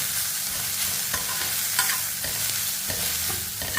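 Vegetables sizzle steadily in a hot pan while a utensil stirs and scrapes now and then; no one speaks.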